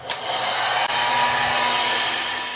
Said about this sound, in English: take your blow dryer and you want to blow dry it until the holding spray is dry